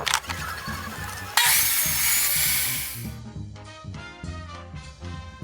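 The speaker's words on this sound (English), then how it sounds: "I then made these cuts on the table saw" A table saw crosscuts wooden table legs for a mobile planer stand, a steady motor whine with a loud burst of blade-through-wood noise partway in, then the blade spinning down as the cut ends.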